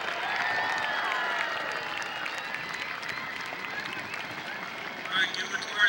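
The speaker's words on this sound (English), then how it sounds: "Give him a cheer." Crowd cheering and applauding at a city birthday celebration, a broad steady wash of clapping and voices that swells briefly near the end.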